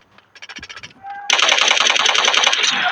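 Machine gun fire in the video game Delta Force: a short, quieter burst of rapid shots comes first, then after a pause a much louder, sustained stream of rapid automatic fire runs to the end.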